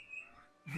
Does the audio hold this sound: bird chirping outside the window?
yes